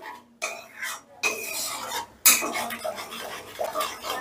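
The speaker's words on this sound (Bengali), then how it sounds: "এবারে কিন্তু দইটা মশলার সঙ্গে বেশ ভালো করে আগে মিশিয়ে নিতে হবে" Yogurt is stirred into a spice masala in a pan, with bursts of scraping and rubbing from a spoon against the metal, broken by short pauses and an occasional clatter. No voices are heard.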